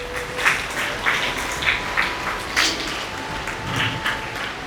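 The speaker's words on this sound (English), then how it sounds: "let us give a round of applause for the parents also who had taken immense effort" Graduation day applause for parents at a matriculation higher secondary school, a scattered, moderate patter of clapping from a seated audience, rising in a few small surges, with no talking over it.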